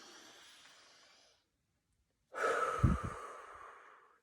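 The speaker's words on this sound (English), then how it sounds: "Take a deep breath in." Someone takes a soft, quiet deep breath in, pauses in silence, then blows out hard and close in a loud, breathy huff that fades away.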